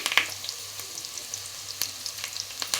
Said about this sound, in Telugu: నూనె అయితే కాకింది సన్నగా కట్ చేసుకున్నాం ఉల్లిపాయ ముక్కలు యాడ్ చేసుకుందాం